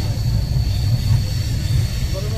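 A passenger train on a family journey rumbles along steadily with a loud, continuous low roar of wheels and rails, heard from on board.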